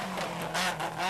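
Ford Escort rally car sliding through a dry forest stage at the 1991 West Cork Rally, its engine snarling with a steady droning tone for about a second.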